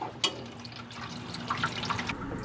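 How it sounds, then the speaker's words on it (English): Water from a hose running into a COWSAR countertop ice maker, a soft steady trickle and splash with a few small drips, faint and close, without talk. "Here comes the water."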